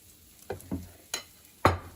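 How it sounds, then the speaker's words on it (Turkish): Waffle batter in a sandwich toaster machine gives four short, soft sizzling bursts, each a brief hiss with a light thump, spaced unevenly across a quiet background. "Evet tam ortasına bu şekilde bırakıyorum."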